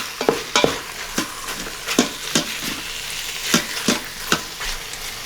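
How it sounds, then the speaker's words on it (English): Boneless, skinless chicken thigh pieces browning in an Instant Pot for Thai yellow curry, with irregular stirring scrapes and clatter over a steady close sizzle, and no talking. "we're going to cook this until it's kind of cooked on the outside"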